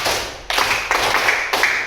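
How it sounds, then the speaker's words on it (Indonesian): Classroom applause from pupils, several quick bursts of hand clapping in short rounds, each starting sharply then fading, close and lively. "Tepuk tangannya."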